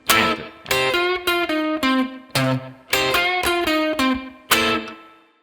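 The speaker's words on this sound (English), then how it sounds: "I'll do a little aggressive chord stab here on this 13 chord." An electric guitar plays a rhythmic blues part of short, aggressive 13 chord stabs, bright and close, cut off sharply between hits in a syncopated pattern with no talk.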